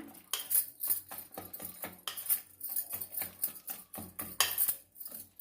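Soaked lentil batter for ginger vadas is mixed briskly in a bowl, with quick, irregular clacks and wet slaps of a spoon against the vessel.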